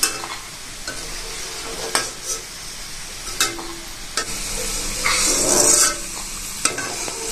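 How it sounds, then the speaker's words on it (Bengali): Rolled palm-fruit nimki dough snacks fry in hot white oil with a steady, close hiss and crackle, broken by occasional sharp clinks and scrapes of a utensil stirring the pan; the sizzle swells briefly toward the end, and no one speaks. "আমার সমস্ত নিমকি বেলা হয়ে গেছে, এবার আমি তেলে ভেজে নেব।"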